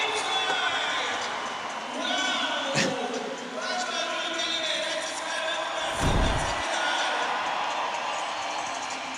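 Crowd cheering at a skateboarding contest, the 2024 SLS Super Crown in São Paulo, a steady roar of voices throughout with a brief thump, while a commentator talks over it.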